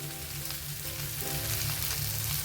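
Aloo bhindi, a dish of potatoes and okra, fries in a pan as it is stirred. A continuous close sizzle with a low steady undertone runs throughout.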